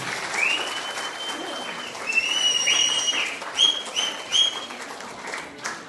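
An audience at Sri Ragavaleswarar temple in Thottakkalapudur applauds after a song performance, a sustained burst of clapping with bird calls chirping over it and faint voices in the background.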